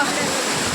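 Ukkada waterfall in the Muttodi forest, a loud, steady broadband rush of falling water filling the whole moment.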